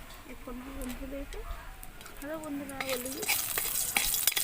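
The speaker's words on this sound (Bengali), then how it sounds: "তো একই তেলের মধ্যে আমি শুকনো লঙ্কা ভেজে নেব" Two dried red chillies are fried in oil already used for frying aubergines. Tonal, voice-like sounds come first, then a broad hissing sizzle rises and grows louder toward the end.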